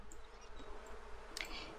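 Bees buzz around characters in The Sims 4 Seasons, a faint, steady insect hum with small flickers of wingbeat, heard alone with no talking.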